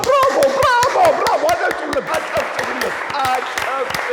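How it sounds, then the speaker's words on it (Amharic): An audience claps in a comedy drama: a run of sharp, distinct hand claps at close range, mixed with voices talking and exclaiming over them. "ብራቮ! አጨብጭቡለት።"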